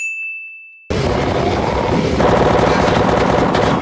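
After a single high ding fades, a rapid burst of gunfire erupts and rattles on continuously, loud and close, as shots fly during a scene from The Walking Dead season 8.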